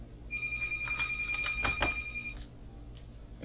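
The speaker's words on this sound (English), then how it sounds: "Sorry people, I can't answer the phone right now." A telephone rings with a bright trilling bell in a couple of bursts, moderately close in a quiet room, with a soft thunk near the end.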